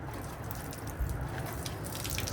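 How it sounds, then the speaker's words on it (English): Water trickling and splashing from a watering can in a garden after a rainstorm, a steady close pour with a low rumble underneath and no voices. "let's just get rid of some of this water that's in this"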